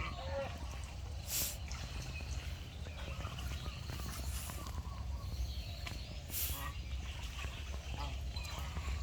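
Two male pet geese honk and call against each other amid steady outdoor background noise, with several sharp honking bursts standing out over a constant low rumble.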